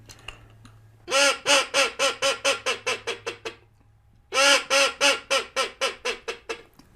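Two series of rapid, descending quacks, each string about ten notes fast and close, separated by a brief pause; a duck call imitating a teal hen, faster and higher-pitched than a mallard hen.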